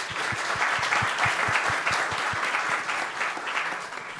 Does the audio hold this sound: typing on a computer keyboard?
no